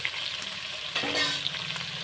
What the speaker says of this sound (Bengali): আমি মাছগুলো ভাজার জন্য কড়ায় সর্ষের তেল দিয়েছি তেল গরম হয়ে গেছে মাছগুলো দিয়ে দিচ্ছি